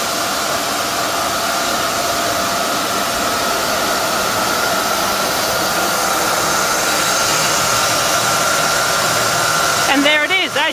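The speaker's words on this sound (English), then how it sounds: "they've got four turbine little hydro generators there, and each one's generating about 30 or 40 amps" Four small homemade hydro turbine generators running beside a waterfall, each putting out about 30 to 40 amps, giving a loud, steady rushing whine that carries on unbroken, with a short burst of talk near the end.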